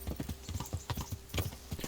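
Horse hooves clip-clopping in the medieval game Kingdom Come Deliverance as the horse travels off-road, a quick, steady, close rhythm of hoofbeats at moderate level.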